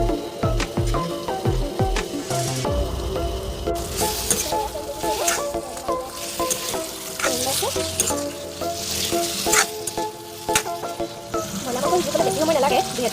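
Food sizzles and fries steadily in a pan over medium heat, with repeated scraping and stirring strokes throughout; no talking.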